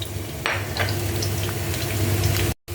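Ginger, garlic and onion sautéing in a pan for a pork and shrimp-paste jackfruit dish, giving a steady close sizzle with a few sharper splashy bursts and a brief dropout near the end.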